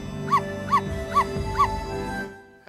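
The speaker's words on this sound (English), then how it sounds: "your bark will change" Four evenly spaced, high, yippy barks from the wolf in the Ōkami video game ring out over a steady musical backdrop, close and clear, before the sound cuts off.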